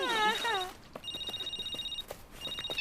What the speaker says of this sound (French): Oh, John, y a le téléphone qui sonne.